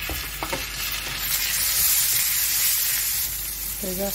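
Ginger garlic masala paste fries in a pan with bay leaf and a splash of water, giving a steady close sizzle and hiss with occasional stirring; a brief voice sounds at the end.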